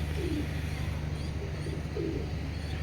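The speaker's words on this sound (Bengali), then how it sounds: "অনেক সুন্দর ব্যালেন্সের কবুতর" Racing pigeons cooing softly nearby, a few low throaty coos over a faint steady hum.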